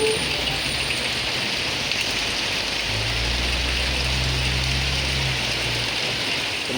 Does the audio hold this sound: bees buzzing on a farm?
no